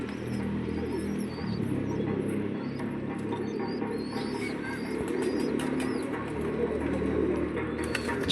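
A group of black pigeons kept by a fancier coo in low, steady droning tones, with faint higher chirps and scratchy rustles layered over a constant background hum.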